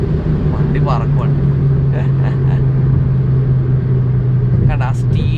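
A remapped Abarth Punto hatchback pulls hard on the road, its engine holding a steady, droning note inside the cabin while someone talks over it.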